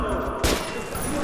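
A single loud gunshot bursts out in the Metro 2033 Redux video game on PC, sharp and close, standing out against a steady game background.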